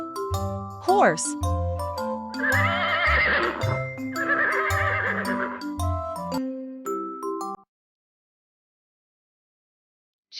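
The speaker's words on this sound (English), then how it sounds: "Horse." A horse neighs in two loud whinnying bursts over upbeat children's music with chimes, then the music stops and silence follows; part of a farm-animal sound set for toddlers.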